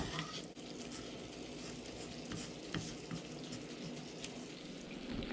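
Sausage gravy with milk being stirred in a hot pan, a steady soft sizzle and bubbling with light scraping of the spoon running throughout.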